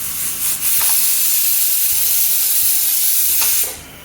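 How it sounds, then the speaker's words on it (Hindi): A loud, steady hiss of steam escaping from a pressure cooker whistle while boiling rice on full flame, running almost continuously with no voices. "3 विसल आ गई है"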